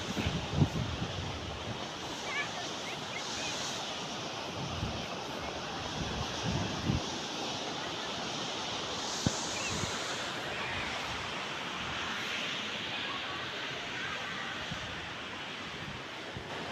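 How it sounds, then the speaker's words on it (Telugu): Ethipothala waterfall, where water is falling and flowing downstream: a steady, distant broadband roar of water runs through the whole stretch, with wind buffeting the microphone and faint occasional background sounds. "సో అటు డౌన్లో అయితే వాటర్ వెళ్తున్నాయి."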